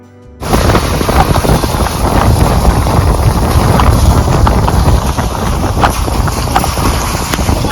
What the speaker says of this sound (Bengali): তোমাদের সমুদ্রের আওয়াজটা শোনাই